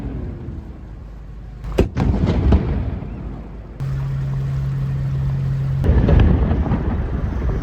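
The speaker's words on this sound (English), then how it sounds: "Bit of cannon action." Cannon fire at a pirate weekend in a harbour: a sharp blast booms out and rolls away, with further rumbling bangs over steady outdoor crowd and wind noise.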